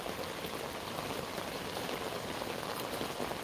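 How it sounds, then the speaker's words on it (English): Steady rain falls throughout, a constant wash of dense patter with no voices. "Yeah, it's raining."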